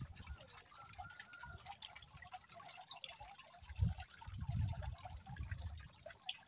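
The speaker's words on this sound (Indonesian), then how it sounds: "Tuh airnya di pancurannya ngegerelek herang" Water trickles from a spout into a fish pond by rice fields, a faint continuous babble with soft splashes and gurgles close by, with no talk over it.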